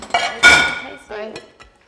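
A ceramic plate is set down on a metal pot of parboiling sweet potatoes on a kitchen stove, giving a short clattering clink with a brief rattle, close and fairly loud.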